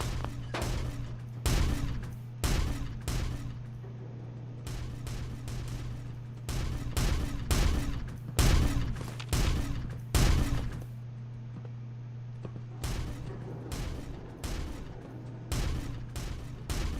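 Gunfire in the video game Fallout 4, a long series of sharp, loud shot bursts in uneven clusters over a steady low hum, with brief quieter gaps between volleys.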